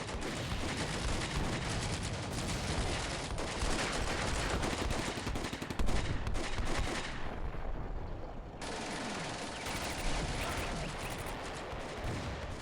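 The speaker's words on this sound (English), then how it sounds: "our artillery is dropping back there" Artillery barrages in the WWII strategy game Combat Mission: Beyond Overlord form a dense, unbroken wall of loud booms and rattling gunfire, with a short drop in intensity partway through before the heavy roar returns.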